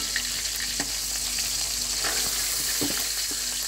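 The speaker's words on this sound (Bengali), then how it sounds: "এখন আমাদের মাছগুলো ভাজা হয়ে গেছে।" Native koi fish fry in hot oil with a constant close sizzle, broken by a few sharp pops and light clinks.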